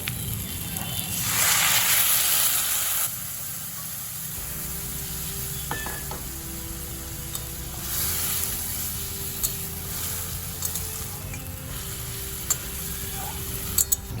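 Water poured into a pan of spiced pumpkin curry, a no-onion, no-garlic vegetarian dish, sets off a loud hissing sizzle that swells for a couple of seconds, then settles into a softer steady bubbling with faint clinks.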